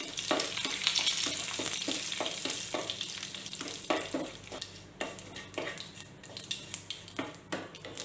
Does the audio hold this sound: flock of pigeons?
no